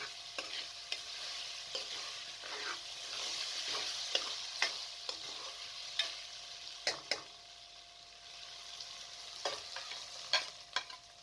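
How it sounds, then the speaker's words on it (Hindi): Potatoes fry with beef keema in a pan for a cabbage keema curry, a soft steady sizzle broken by sharp, irregular spoon scrapes and taps close by. "अब आप इसके अंदर आलूओं को शामिल कर दें। आलू डालकर मज़ीद 3 से 4 मिनट तक भून लें।"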